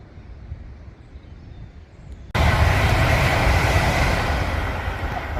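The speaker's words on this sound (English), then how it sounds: "Avanti West Coast that goes to Glasgow." An Avanti West Coast train on the West Coast Main Line bursts into a loud, close rushing roar that drowns out quieter outdoor background and holds steady as it passes.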